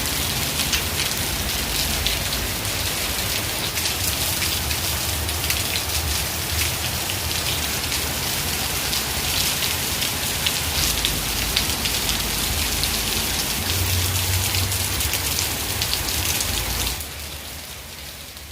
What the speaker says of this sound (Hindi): बहुत गंदी बारिश हो रही है।